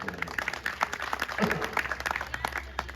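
A crowd at a Hindi poetry recital applauds with scattered, brisk claps, moderately loud and continuous, with some voices mixed in.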